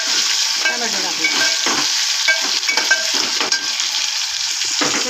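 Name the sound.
chopped tomato frying and being stirred in a pan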